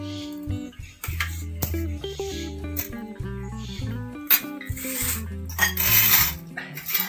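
Dishes and metal plates clink and clatter while ghugni and lightly oiled paratha are served onto a single plate in a village kitchen, sharp close knocks and rings interspersed with music.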